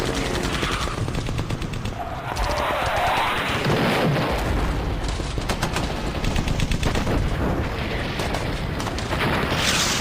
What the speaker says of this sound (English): the flak's still firing shots at the tank destroyer